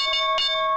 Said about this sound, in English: There we go. There's the bell.